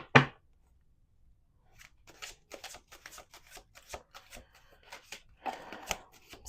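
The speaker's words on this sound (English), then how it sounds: "Let's do two more shuffles." Tarot cards being shuffled by hand in a series of quick crisp riffles and flicks, close and fairly quiet, with a sharp snap at the start, a pause, then a denser burst of shuffling near the end.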